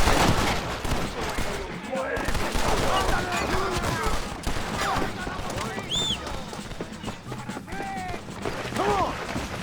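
Gunfire in the video game Red Dead Redemption on PS5, a loud, continuous fusillade of rapid shots and cracks with ricochet-like whines, while a character shouts over the battle.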